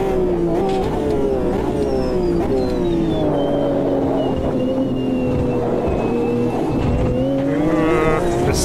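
A race car laps Monza in the Automobilista 2 sim racing game, its engine screaming loud and close with rising revs, gear changes and downshifts through the chicanes, plus faint tyre squeal.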